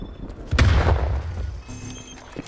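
A frag grenade in a video game goes off with one heavy, booming blast, followed by a rumbling decay and faint in-game sounds.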